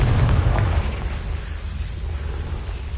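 A Confringo blast spell from the Hogwarts Legacy video game goes off as a single deep, loud boom at the start, then rumbles away into a dull, steady roar for the rest of the moment.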